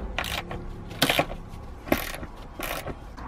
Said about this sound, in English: held down with a handful of bolts. So we'll undo those and get this out of the way.